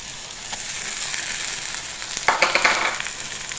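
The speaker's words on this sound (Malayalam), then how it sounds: "ഇഞ്ചി വെളുത്തുള്ളി ചതച്ചതിട്ട് കൊടുക്കട്ടെ" Crushed ginger and garlic hit hot oil for a beef breakfast dish, setting off a steady close sizzle that swells into a louder burst of crackling spatter near the end.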